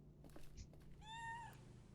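A cat meows once in a video game sound puzzle, a drawn-out tonal call near the middle of the clip over a quiet low hum, preceded by a few soft clicks.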